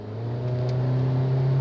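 A Mitsubishi Eclipse Cross with a 1.5-liter turbocharged engine accelerates, its steady engine drone rising slightly and holding loud and close throughout with no talking.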